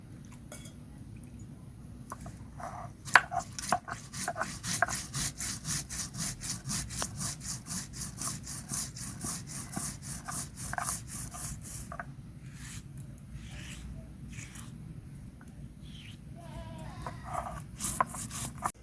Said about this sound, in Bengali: এখন আমি সর্ষেটাকে বেটে নেবো